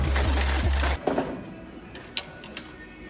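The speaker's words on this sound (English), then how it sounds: "enjoy watching me struggle to cut this dowel myself" A wooden dowel is cut by hand with quick, rhythmic rasping strokes for about a second, then a few sparse knocks and clicks follow in a quiet room.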